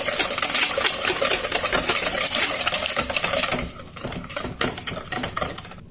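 Apple cake batter being mixed by hand in a bowl: a dense, steady clatter and scrape of utensil against dish that thins into sparser, lighter strokes partway through, with no talking.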